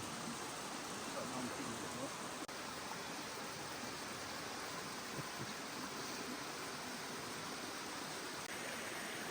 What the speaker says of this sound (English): Eagle Eyes Larry just spotted a little waterfall running down into the creek